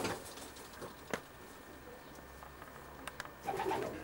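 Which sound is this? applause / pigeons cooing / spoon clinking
pigeons cooing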